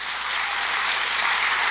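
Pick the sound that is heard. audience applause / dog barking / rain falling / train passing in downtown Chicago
audience applause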